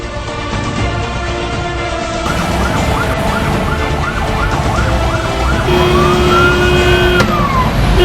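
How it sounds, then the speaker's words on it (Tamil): A 108 ambulance siren in India wails loudly and close, its rising and falling tones repeating over steady traffic rumble, then shifting to a long sweeping whoop. "அதுக்காக தான் சைரன் சவுண்டு கொடுத்துருக்காங்க"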